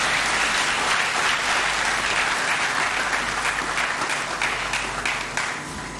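Sustained applause from a lecture audience honoring a professor, dense steady clapping that fills the room throughout and tapers slightly near the end.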